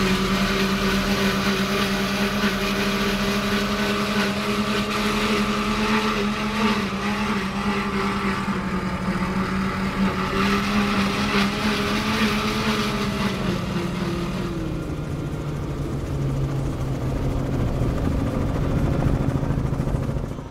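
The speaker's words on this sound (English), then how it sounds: "this is really a one-of-a-kind SL43 Outer Limits sit-down version with Ilmor V10s" SL43 Outer Limits sit-down powerboat with Ilmor V10 engines at full throttle during a poker run, a loud continuous engine roar with wind and water rush, pitch dipping briefly before holding steady.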